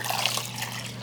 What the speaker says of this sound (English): I'm just going to put the water in here